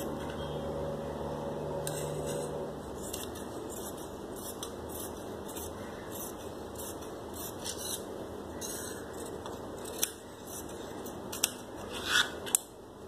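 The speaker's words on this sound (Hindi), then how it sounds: "ये मैं इसको काट लूँगी इस तरीके से।" Scissors cut fabric for gharara trousers, with close, soft snipping and shearing strokes spread through the clip and a few sharper clicks toward the end.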